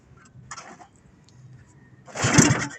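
An engine struggling to start in cold, rainy weather: a brief weak cranking burst, a pause, then a louder rough surge as it tries to catch near the end.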